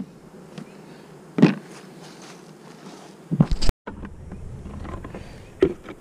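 Honey bees buzz steadily around an open beehive colony during a drone frame check, a continuous close drone with a few louder bursts as bees pass near, and no talking.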